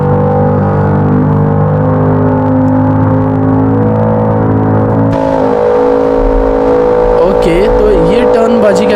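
A turbocharged car engine in GTA 5 runs at full speed as a steady, loud, droning hum that shifts pitch about halfway through, then wavers as it revs.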